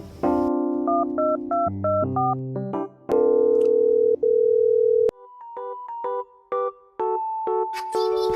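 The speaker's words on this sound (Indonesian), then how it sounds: "kalau gitu gue telepon Aras dulu ya" Phone dialing tones in the Sakura School Simulator game: a run of short electronic beeps, then two long steady ringback tones, then more quick beeping pulses, loud and clean with no voices.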